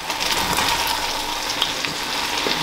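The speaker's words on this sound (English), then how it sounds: "now we're gonna give it a little stir first" A coconut curry chickpea stew is stirred in a pot, with a steady close sizzling, bubbling wash of cooking noise running continuously and small scraping bumps now and then.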